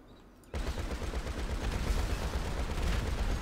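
A heavy truck-mounted gun in GTA 5 Online opens fire after a quiet moment and then keeps up loud, sustained rapid fire to the end, with no voices.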